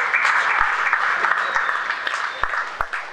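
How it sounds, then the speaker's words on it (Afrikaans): An audience applauds at an off-road racing year-end awards ceremony, with steady, moderately loud clapping throughout and a few sharper individual claps standing out. "Klap asseblief steeds hande."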